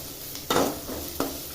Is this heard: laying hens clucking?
no